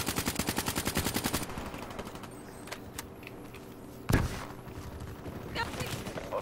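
Video game gunfire in Black Ops 3 multiplayer: a burst of rapid automatic shots, then a pause with faint clicks and a single loud shotgun blast, followed by quieter game sounds.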